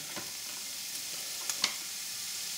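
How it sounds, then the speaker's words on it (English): Lamb mince frying in a pan with onions and garlic, a soft steady sizzle with a few faint stirring clicks and small pops. "Now is the time to add in our lamb mince."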